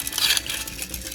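Beyblade sparking launcher for left spin, sandpaper rubbing against metal, giving a short gritty scraping rasp up close, loudest in the first moments and trailing into fainter rough friction.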